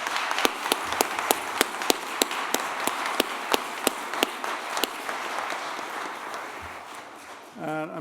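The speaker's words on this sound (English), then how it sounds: "Great, so we might just do one round of applause for everybody." Ceremony audience breaks into a round of applause for new members, sustained dense clapping with a few sharp nearby claps standing out, fading toward the end.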